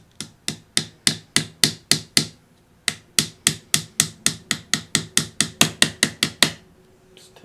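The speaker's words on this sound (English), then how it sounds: "Here, we'll just hammer it in first." Plastic hammer tapping pins into a Walther P22 pistol: about twenty-two sharp, evenly spaced taps in a steady rhythm with a brief pause partway, close and clear with no talking.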